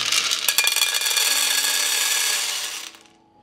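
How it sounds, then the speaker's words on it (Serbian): A steady dry rattling rush of 600 g of mottled beans poured into a cooking pot, dense and close for nearly three seconds before cutting off quickly, with no talk. "Ovdje imam 600 grama šarenog pasulja i sad ću ga sipati u šerpu"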